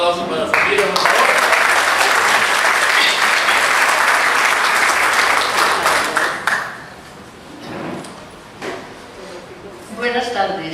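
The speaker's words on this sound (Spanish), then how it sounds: "Un aplauso para Sor Lilia, por favor." A hall audience applauds at the opening celebration of a conference marking 400 years of the Vincentian charism: dense, steady clapping for about six seconds that then fades out, followed by a voice beginning to speak.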